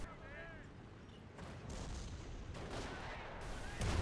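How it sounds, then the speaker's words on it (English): Sniper fire in a World War II video game strikes a British PIAT anti-tank team, sharp gunshot cracks rising over a constant rumble of battlefield noise and growing louder toward the end. "There you go, sniper taking out the Piat."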